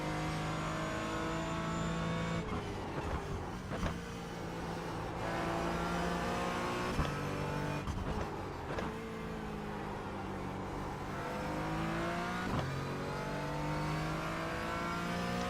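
A Porsche race car engine drones and revs in an IMSA race at Road Atlanta in a racing game, with steady high-pitched engine tones rising and falling through gear shifts, and other cars passing by in the background.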